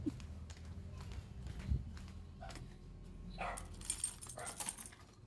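Keys for a Sniper 150 motorcycle jangle and clink in short bursts, sharper near the end, over faint rustling and background noise with no clear talking.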